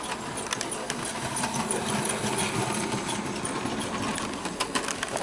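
A Bachmann SE&CR C Class model steam locomotive in lined green runs laps on its track after oiling of the crank pins, giving a steady, close mechanical whirr and rattle with faint clicks.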